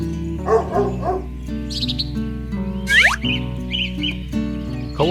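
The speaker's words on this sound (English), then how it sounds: "Dog." A dog barks a few times over continuous background music, with bird chirps and other animal sounds mixed in, and no talking.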